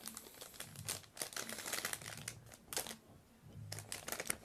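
Paper wrapping on an Asus Radeon R9 270X DirectCU II Top graphics card box being handled, close crinkling and rustling in repeated short bursts with brief pauses between them.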